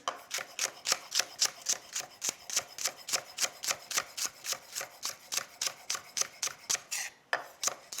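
A knife slicing through potatoes for potato salad in a kitchen, heard as a steady, rapid run of about two dozen crisp, evenly spaced cuts against a board, close and loud with no talk.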